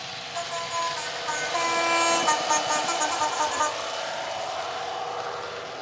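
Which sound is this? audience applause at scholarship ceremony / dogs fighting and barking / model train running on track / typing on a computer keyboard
model train running on track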